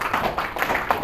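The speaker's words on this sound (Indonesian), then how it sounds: "Ayo tepuk tangan dulu" Audience clapping at a journalists' association competency-testing event in Indonesia, a brief burst of scattered hand claps, fairly close and steady through the second.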